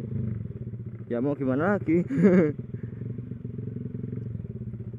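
A Honda Revo motorcycle engine idles steadily and close by, a low continuous rumble under someone talking nearby.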